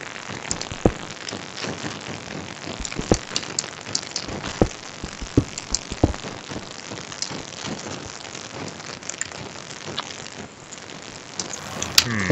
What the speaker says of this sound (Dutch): Ik haat die regen zo erg, hè.